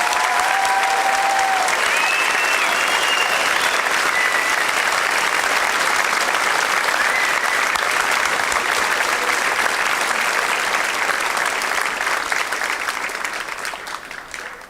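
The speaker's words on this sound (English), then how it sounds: "Can we have one more round of applause, please?" A high school honors-night audience gives a long, steady round of applause that stays dense and loud throughout, then tapers slightly at the end; faint voices surface briefly near the start.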